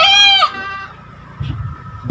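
A goat bleats once at a livestock handover of goats, a loud, close, wavering call, followed by low rumbling background noise.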